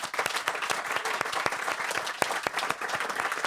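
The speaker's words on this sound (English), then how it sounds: "So let's give each other a hand of applause." Dense, steady applause from an audience at a Caribbean climate change gathering, many hands clapping close together with a few sharper individual claps standing out, sustained and fairly loud throughout.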